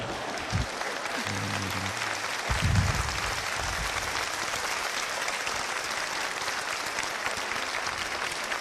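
Applause from a stand-up comedy audience in Macedonia, sustained and fairly even across the whole stretch with a brief swell early on, broad and dense with no voices over it.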